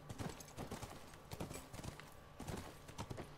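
Horse hooves clip-clop in steady, rhythmic beats while riding in The Last of Us Remastered, a moderately quiet, continuous patter of repeated strikes with no talk over it.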